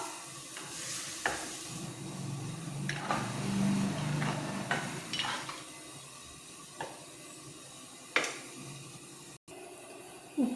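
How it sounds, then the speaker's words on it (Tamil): Tamarind water is poured into a pot of hot oil for a village-style field bean kuzhambu, raising a sizzle, with intermittent spoon clatters and stirring scrapes. "2வது கழுவுன தண்ணியில் அதை ஊற்றிக்குவோம். கொஞ்சமாக புளி ஊற்றிக்குவோம்."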